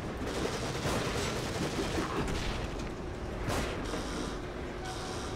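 Dense gunfire in the horror video game The Evil Within, a steady stream of loud, close shots and bursts rattling without pause over mechanical noise.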